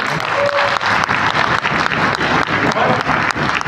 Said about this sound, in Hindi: तो एक बार शानदार ताली चाहूंगा मैं गौतम साहब के लिए, गौतम के लिए और हमारे सुनील चौधरी साहब के लिए।